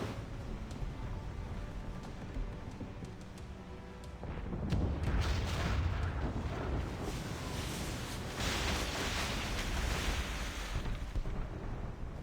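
Naval cannon fire from sailing warships in Assassin's Creed Rogue rumbles as heavy, continuous booming and roaring blasts, which grow louder midway and sustain a dense, thundering wall of low explosions with no voices.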